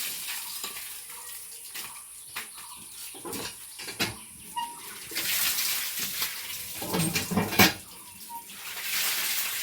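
Taro stems (kochur loti) being washed by hand in water in a kitchen, with splashing, swishing water and occasional clinks against a pot, close and uneven.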